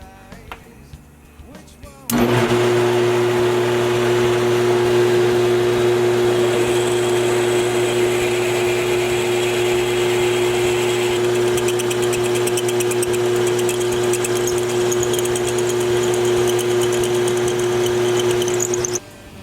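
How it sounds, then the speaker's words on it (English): Metal lathe running steadily while machining the inside of a steel spacer, a loud constant hum with a strong steady tone starting after two seconds and stopping abruptly near the end. "We've got the lathe set up so we can machine the inside of that spacer so we can get it to press fit on to that shaft."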